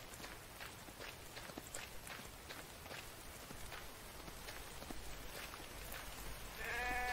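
Sheep bleats in The Infected survival game, short repeated calls scattered across a steady outdoor ambience with soft footsteps, fairly faint and without talk.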